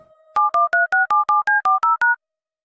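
A quick run of ten evenly spaced telephone keypad tones sounds as a number is dialed on a phone in a horror mobile game. The tones are crisp and loud, with no talking.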